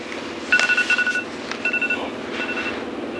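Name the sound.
cell phone buzzing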